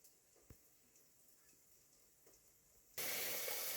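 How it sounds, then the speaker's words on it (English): Water splashed into a hot pan of frozen vegetarian potstickers bursts into a loud, sustained steaming hiss and sizzle after a few seconds of quiet kitchen background with faint clicks. "I just threw a little bit of water in there to make it steam like crazy."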